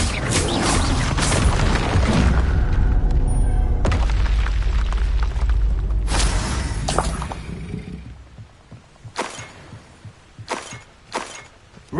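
Confringo spell blasts in Hogwarts Legacy during a fight with Ashwinders: heavy booming explosions rumble through the first half, then sharper, scattered bursts and crashes follow more sparsely.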